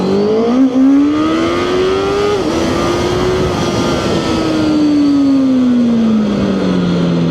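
A QJMOTOR SRK600RS motorcycle engine drones steadily while riding in sport mode, its pitch rising and then slowly sinking as the revs change, loud and close with wind rush and no talk.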